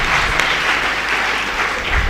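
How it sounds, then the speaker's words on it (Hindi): An audience claps at a talk in a hall, steady dense applause of many hands throughout, fairly loud and close, with no voices over it. "अब बजाइए ताली।"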